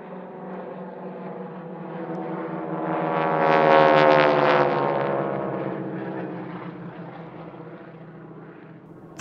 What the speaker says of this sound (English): Our final display of the day is the Aerosuperbatics Wingwalkers running in now for their